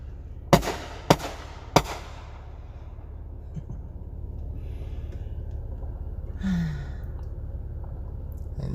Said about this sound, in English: We decided here. to come here to watch the fireworks show.